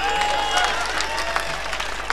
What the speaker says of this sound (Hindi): ताली बजाओ यार ढंग से।